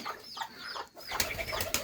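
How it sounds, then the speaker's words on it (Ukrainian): Pigeons and young pigeon chicks in a village loft: quick bursts of wing flapping close by, with soft cooing and faint chirps between the flurries. "Ось такі голуб'ята."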